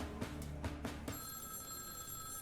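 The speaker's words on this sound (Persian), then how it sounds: "ناگهان تلفن جیم مارتین زنگ می‌خورد." An old-style telephone bell rings in a few quick bursts, faint and close, before giving way to a steady high tone.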